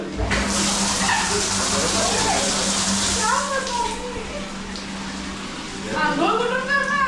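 Water rushes and hisses steadily into a tub, nearby and fairly loud, while people talk over it.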